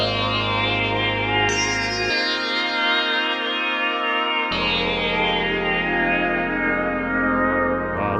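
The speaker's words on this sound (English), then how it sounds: "Let's put a little bit of reverb on this one." Sustained Softube Model 80 synthesizer chords with reverb added, bright layered harmonics shifting as notes and bass drop out and return, loud and continuous with a washy tail, no talking.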